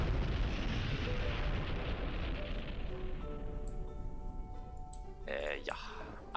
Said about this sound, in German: Ein UFO! Knallt's durch die Wolken.